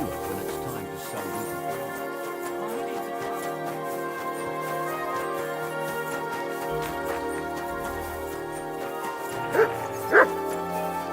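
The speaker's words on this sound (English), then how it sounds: "Good dog, Matt." A dog in the medieval video game Kingdom Come: Deliverance 2 gives two short sharp barks near the end, over a steady game soundtrack backdrop.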